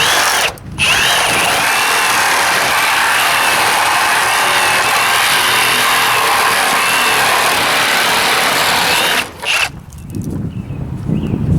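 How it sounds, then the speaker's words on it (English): A Milwaukee M18 FUEL cordless Sawzall with its blade upside down cuts nails behind a front board, a loud, steady buzzing saw run of about nine seconds with short starts and stops at each end. "I'm going to use the Sawzall with a blade turned upside down to cut the nails out"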